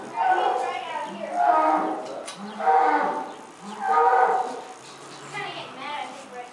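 A cow on a Pennsylvania farm moos four times in long, loud, drawn-out calls, a shorter and softer low call following at the end.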